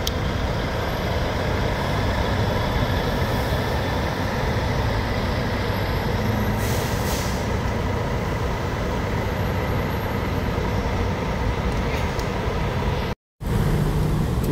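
A Gontijo Invictus DD double-decker coach pulls into the Belo Horizonte bus station, a steady loud diesel engine rumble with broadband road noise running continuously, briefly cutting out near the end.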